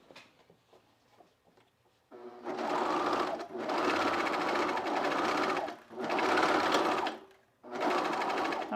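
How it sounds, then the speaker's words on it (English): Serger sewing machine stitching denim for a pair of jeans, starting after a few quiet handling sounds and running in loud, steady bursts with short pauses between them. "Do the serger over here."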